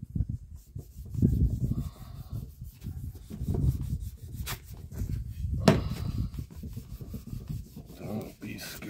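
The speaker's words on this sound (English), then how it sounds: "While you're rubbing on it, rub it in. Apply some pressure there, man." Wood stain is rubbed by hand into a wooden surface, producing irregular scuffing and rubbing strokes close by, with a couple of sharp knocks midway and a voice talking intermittently over it.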